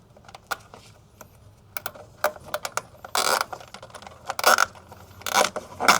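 Zip ties being threaded and pulled tight on a conduit dragonfruit trellis: a run of sharp plastic clicks and ratcheting scrapes in irregular bursts, close and fairly loud, with a few longer rasping pulls.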